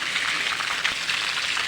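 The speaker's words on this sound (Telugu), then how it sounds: "ఈరోజు చూడు ఈ వాన ఫుల్ వస్తుంది" Heavy rain comes down continuously on a paved stone surface, a dense and even hiss of drops that holds steady throughout, with no one speaking.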